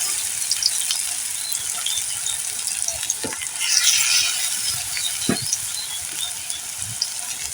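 Banana blossom chops fry in hot oil, a dense, steady, close hiss of bubbling with a few soft knocks and a brief louder crackle midway.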